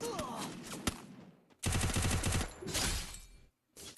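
Gunfire in the mobile battle royale game Free Fire: a sharp shot, then a loud rapid automatic burst and a second volley, with game sounds filling the gaps.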